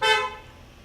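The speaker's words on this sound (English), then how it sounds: "somebody honking" A single car horn toot sounds loud and close at the start, then fades out quickly over faint background.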